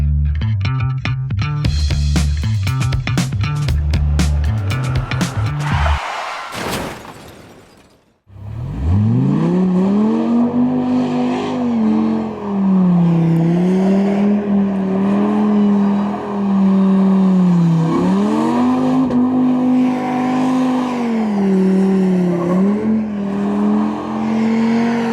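An off-road Dodge Viper drives on dirt, with a few seconds of music first, then a loud, close engine that revs up and down through repeated rising and falling surges for about seventeen seconds.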